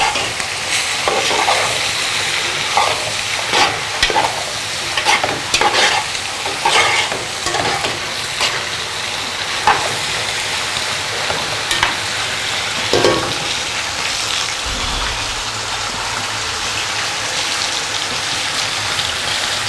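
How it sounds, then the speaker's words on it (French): Carrots and green beans are stirred into a frying pan, with a continuous loud sizzle broken by repeated scraping and clattering strokes of a spoon against the pan, close by. "Ensuite, nous rajoutons les carottes et les haricots verts. Et nous mélangeons au reste."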